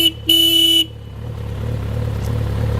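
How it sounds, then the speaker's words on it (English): Horn of a 1993 Yamaha GTS-1000 motorcycle, two quick loud beeps, a short one then a longer half-second honk, followed by a low idling engine hum rising slightly. "Horn."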